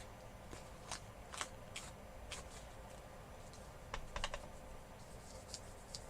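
Plain white paper is handled and edged up before folding, giving soft, close crinkles and sharp scattered rustles in a quiet room.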